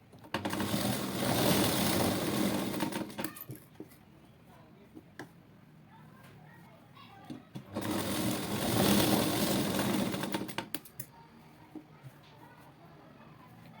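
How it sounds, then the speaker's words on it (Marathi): Two loud, close bursts of a sewing machine run stitching tucks on the second side of a simple blouse, each a few seconds of steady whirring, separated by quieter handling clicks and someone talking. "आता दुसऱ्या बाजूचे टक्स मारून घेऊया."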